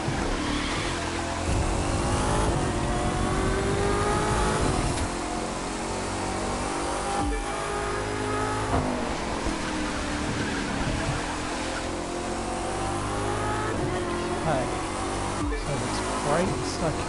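A car engine races continuously in The Crew 2 driving game, a steady loud drone with rises and dips in revs, running under frequent talk throughout.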